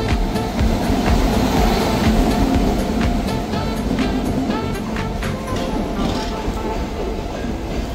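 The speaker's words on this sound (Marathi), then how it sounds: "तर ट्रेन आलेली आहे अशा प्रकारे" A Konkan route train rumbles into Panvel station with a heavy, steady roar and rhythmic rattling of wheels on track, close by, with faint background chatter.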